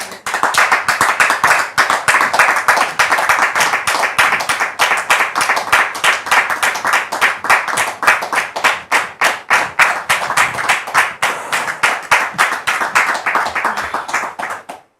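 Rhythmic group clapping greets a newly married couple, a loud, close, steady beat of many hands in unison that keeps going for a long stretch before stopping abruptly.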